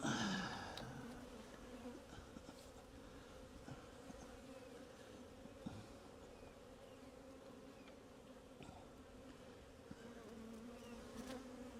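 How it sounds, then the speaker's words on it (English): A steady, dense buzzing of many honey bees in a nucleus mating hive, close and continuous, with occasional soft clicks and movement. "Nice population of bees in there."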